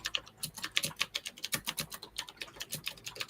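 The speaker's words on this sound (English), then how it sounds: "it's designed to look and sound like a typewriter" Steady, rapid clacking of a typewriter-style computer keyboard, each key striking with a sharp, hollow click in an even stream, close up and alone.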